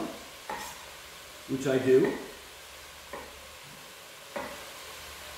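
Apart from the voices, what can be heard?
meat frying and being stirred in a pan for spaghetti sauce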